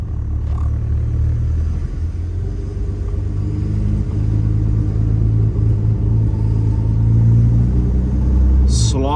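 A Jaguar XF barn-find car's engine runs steadily on the road, a deep, loud low rumble that holds throughout with slight swells as it pulls, with no voices over it.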